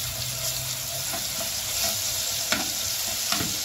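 A big spoonful of garlic fries in leftover onion-frying oil for Egyptian koshari sauce, sending up a continuous close sizzle broken by a few sharp spoon clicks against the pan.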